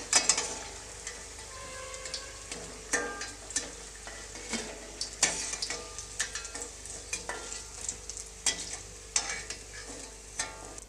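Okra mirchi fritters fry in hot oil, giving a steady close sizzle broken by repeated sharp scrapes and stirs of a utensil in the pan, with no talking.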